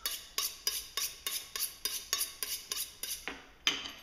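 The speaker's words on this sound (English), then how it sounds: "you go up to a chef and give them a knife and a steel like that, and it makes the same sound I just did" A knife stroked against a honing steel in a quick, steady rhythm of about ten metallic swipes, each a bright ringing scrape, close and clear with no talking.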